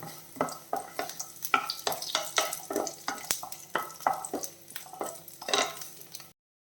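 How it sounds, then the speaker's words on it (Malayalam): Garlic cloves sauté in a pan over a low flame, a steady soft sizzle broken by repeated scraping stirs of a spoon against the pan, close and clear with no voices. "ഫ്ലെയിം കുറച്ച് വെച്ചിട്ട് ഈ വെളുത്തുള്ളി ഒന്ന് ചെറുതായിട്ട് വഴണ്ട് കിട്ടണം"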